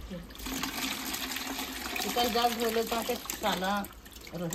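Hot cooking water from boiled vegetables pours and splashes steadily into a sink, with a voice talking over it at moderate level.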